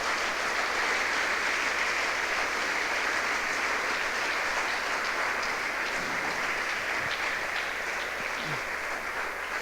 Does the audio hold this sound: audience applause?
yes